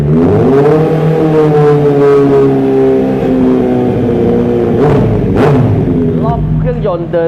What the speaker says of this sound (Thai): มาฟังเสียงท่อคันนี้กัน